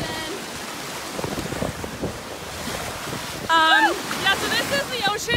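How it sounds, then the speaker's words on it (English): Gulf of Mexico surf at a Naples beach washes in steadily under wind, with seagull cries rising loudly near the end over the continuous wash of waves. "So this is the ocean. The Gulf, actually."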